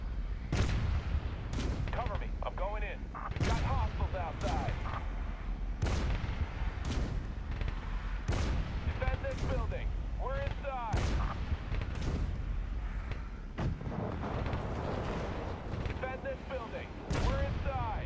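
M777 howitzer fire support pounds a building in a video game, heavy booming shots landing roughly every second or two across the whole stretch, loud and continuous with crackling impacts and game effects layered underneath.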